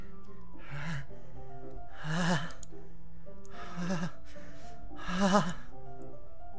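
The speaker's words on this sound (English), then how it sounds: "like someone is sucking the air through their teeth" Sharp, hissing breaths drawn through clenched teeth in a horror visual novel game, four separate rasping inhalations spaced about a second and a half apart, close and fairly loud over a low ambient drone.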